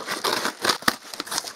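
Crinkling and tearing of plastic packaging as a YAGE YG-T102 rechargeable LED desk lamp is opened, a close, busy run of crackles and rustles with several sharp snaps.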